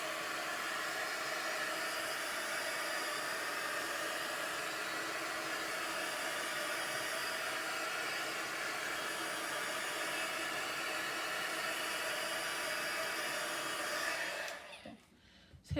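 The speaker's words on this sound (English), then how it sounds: "Hit it one more time with that heat gun." A heat gun blows steadily and loudly while drying a woodland-themed journal cover, a continuous airy roar that cuts off abruptly near the end.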